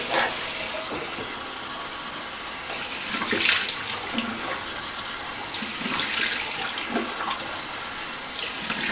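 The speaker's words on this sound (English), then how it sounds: "I'm going to rinse off the brush first" Tap water runs steadily into a sink as a face-washing brush is rinsed under it, a continuous close hiss and splash with small bursts where the flow hits the bristles.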